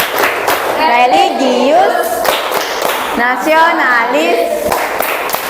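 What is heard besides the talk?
rhythmic group clapping chant (tepuk PPK) by students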